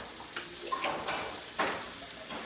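Mushrooms fry in oil and butter in a pan, a close, steady sizzle with a few louder scraping bursts as they are stirred.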